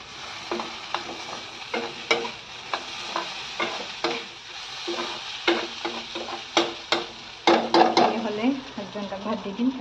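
Cut potatoes fry in a pan for a home-cooked lunch, with a close, steady sizzle broken by rhythmic scrapes and taps of a spatula stirring against the pan, growing busier toward the end.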